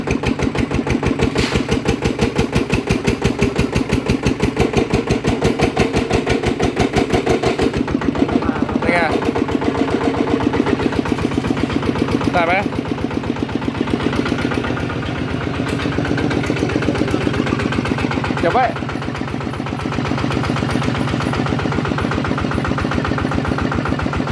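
A Kubota RT140 diesel engine upgraded to RT155 specification runs loud and close with a steady, pulsing chug and slight shifts in pitch, while voices talk over it.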